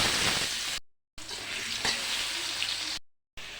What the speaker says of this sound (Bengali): এই ফাঁকে আমি ধোকার আলুগুলো ভেজে নেব